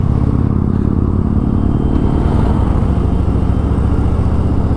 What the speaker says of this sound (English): Just the throb of the engine and the road ahead.